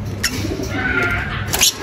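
African lovebirds in a mini aviary give a few brief, close chirping calls over a low background hum.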